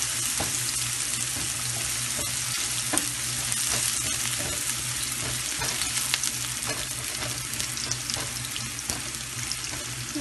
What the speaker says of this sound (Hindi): 3 टेबल स्पून हमने तेल डाला और आधा कप प्याज डाल देंगे इसमें।